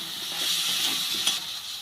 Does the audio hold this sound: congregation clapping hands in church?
no